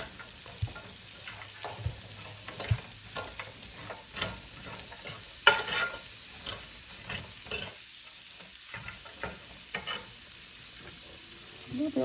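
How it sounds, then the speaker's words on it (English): Steak and vegetables sizzling in a seasoned pan while being pushed around, a steady frying hiss broken by repeated scraping and clacking strokes of a utensil, fairly close, no speech. "You just kind of move everything around in the pan."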